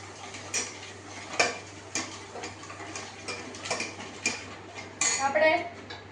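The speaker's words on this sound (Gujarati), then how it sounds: "થોડી વાર માટે આપણે હલાવી લઈએ એટલે ખાંડ થોડીક છે ને ઓગળી જાય." Metal spoon stirring sugar into water in a pot, producing repeated clinks and scrapes against the pot's sides, moderately close, with a brighter burst of clatter near the end.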